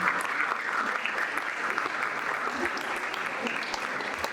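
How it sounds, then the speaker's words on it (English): Steady applause from a conference audience clapping for an orchestra team, a dense, even patter of many hands sustained throughout at moderate loudness. "can you please clap for the orchestra team who will do our interludes for today?"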